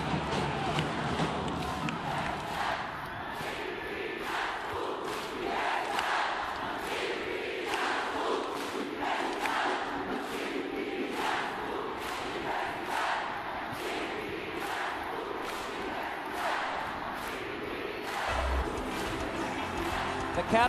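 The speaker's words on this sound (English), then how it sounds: "Just listen to this crowd." Basketball arena crowd at a UAAP men's game between University of the Philippines and Adamson University, a dense roar of cheering and chanting with rhythmic thumps, and a commentator speaking over it.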